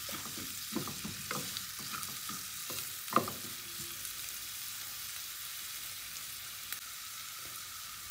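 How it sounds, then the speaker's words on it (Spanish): Onion sweating over low-to-medium heat in a pan, a steady soft sizzle with a few stirring scrapes early on, close and continuous with no talking. "que repose y sude la cebolla hasta que quede transparente"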